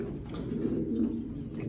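Racing pigeons sit on eggs in a loft and coo, a soft, low, continuous cooing close by with no talk.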